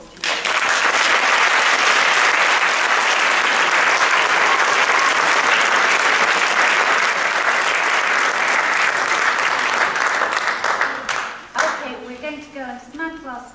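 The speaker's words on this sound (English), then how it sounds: "Big round of applause to you." Audience in a hall applauds presenting teams at a school showcase, a loud, sustained roar of clapping that holds for about eleven seconds, then breaks off into scattered claps and voices.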